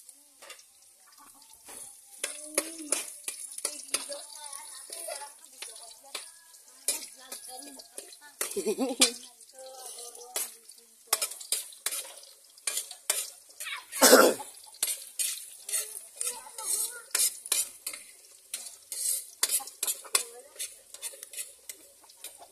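Garlic and ginger stirred in a frying pan, with utensils scraping and clinking against the metal in a busy irregular rhythm over a soft sizzle, up close, with a cough partway through.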